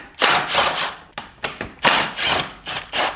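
Power tool fitted with a 10 mm socket removing parts from an Adly scooter during a brake kit job, giving a series of short, loud, buzzing bursts with brief pauses between them.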